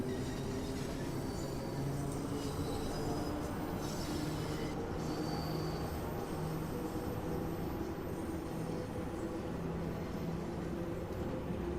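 A London Underground Bakerloo line train rolls along in the Train Sim World 2 simulator, a steady droning rumble of wheels and motors with faint squealing tones throughout, no speech.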